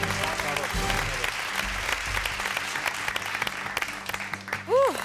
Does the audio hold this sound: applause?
yes